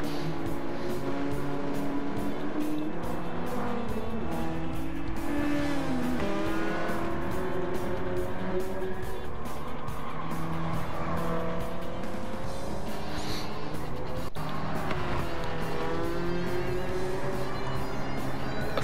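Honda S2000 racing in a Gran Turismo 7 replay, its engine roaring continuously with repeated tire squeals and skids, loud and dense throughout with no talk.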